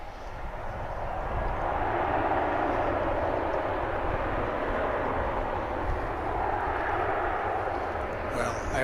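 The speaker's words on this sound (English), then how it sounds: "Another Los Angeles flight here. It's American flight 2424." American Airlines jet from Los Angeles at DFW Airport, a loud broadband engine roar that swells and holds steady across the whole stretch, with no talk over it.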